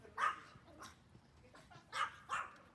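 A puppy barks outdoors near a house, giving two pairs of short, sharp, high yips spaced apart and at moderate loudness, with no talk over them.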